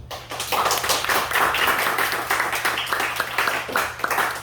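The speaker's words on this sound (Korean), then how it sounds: "그런 의미에서 존경의 박수." Applause for a worship leader at a Saturday gathering, a full, continuous burst of many hands clapping, moderately loud and close, with a low hum running beneath.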